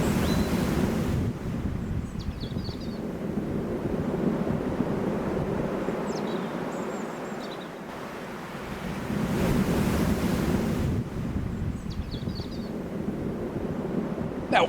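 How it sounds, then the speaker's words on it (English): Ocean waves rush onto the shore in broad, swelling surges, two big washes building and fading with wind buffeting the microphone, loud and close, with no voices. "So when these waves come rushing through"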